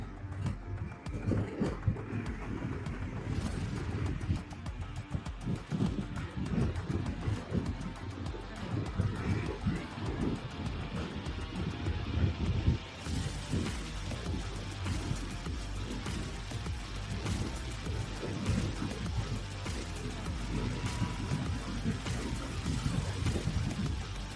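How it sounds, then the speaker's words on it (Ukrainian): Heavy wind buffeting on a microphone mounted on a moving motorcycle roars and thumps with a continuous low rumble, gusting unevenly for the whole stretch and masking any other sound. "вітер, звісно, скажений сьогодні."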